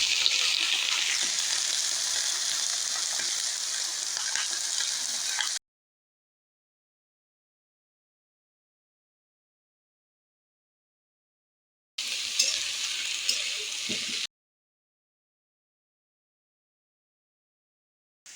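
Onions sizzle steadily in a hot pan, a loud, close frying hiss that runs for several seconds, cuts to silence, then returns briefly.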